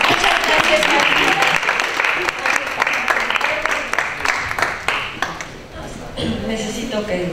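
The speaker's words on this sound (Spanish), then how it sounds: "le damos un aplauso muy cálido" Warm audience applause at a conference on narrative therapy, many hands clapping at a brisk steady rate that gradually thins and fades toward the end, with some speech mixed in.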